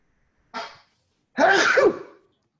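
A short sharp breath-in followed by a burst of one loud sneeze, close and in a quiet room during a lecture.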